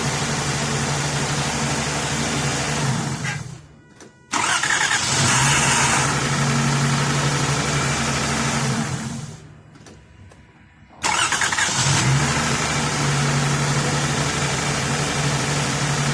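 A 2003 Lexus ES300 engine, due for head gaskets, runs steadily as it warms up, a loud, constant mid-range hum close by. The sound drops out briefly twice, then returns at full level, and no one speaks.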